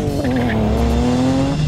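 Fast and Furious style car with a 2JZ GTE engine, a short loud burst of engine note with a sustained tire squeal, heard close and alone.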